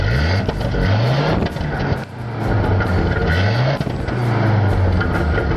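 A Mazda RX-7 race car engine roars past during a 24 Hours of LeMons event at GingerMan, with repeated rising rev sweeps and gear shifts, loud and close, alone without talk.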